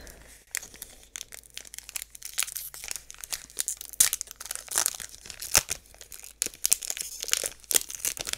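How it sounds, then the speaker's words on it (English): A Magic: The Gathering booster pack from The Lost Caverns of Ixalan being torn open and handled close up, with crisp crinkling foil and sharp tearing bursts in an irregular rhythm, no voices. "one more pack to open"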